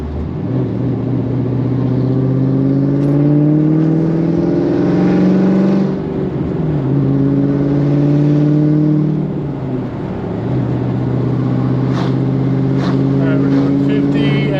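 A Pontiac GTO with big brakes drives down a road, its engine note climbing through gears in loud repeated accelerations with brief lifts between, heard from inside the car.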